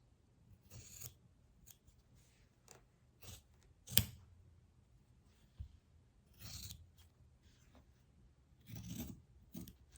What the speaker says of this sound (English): Then I'm going to cut those squares out.